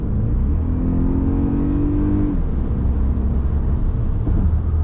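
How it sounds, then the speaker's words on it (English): A 2024 Toyota Grand Highlander Hybrid MAX engine revs up in sport mode with a rising whine as it accelerates up a bridge, over constant road rumble, then settles into a steady drone. "I'm gonna put it in sport mode going up this bridge."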